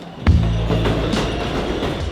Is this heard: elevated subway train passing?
yes